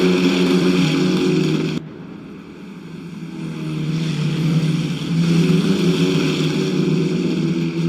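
Racing cars launching at the start of a Super Polo Cup race, a loud sustained engine roar that drops briefly, then swells again as the pack pulls away, with no voices.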